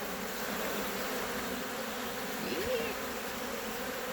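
Honeybees drone steadily around an open hive during an inspection, a dense, continuous close buzz, with a single brief louder pass near the end.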